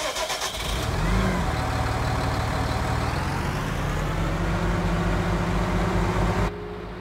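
JCB stump grinding machine in Farming Simulator 19 cranks and catches, then settles into a loud, steady mid-pitched engine drone that runs alone and cuts off abruptly near the end.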